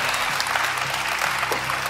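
A TV studio audience claps in sustained, dense applause throughout, close and loud with a faint crowd murmur.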